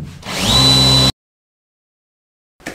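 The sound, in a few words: power drill driving screws into wooden floorboards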